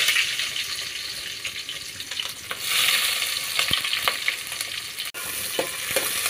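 Onions sizzle steadily in hot oil with cardamom and bay leaves, a loud continuous frying hiss broken by the scraping of a stirring spoon, with no talk.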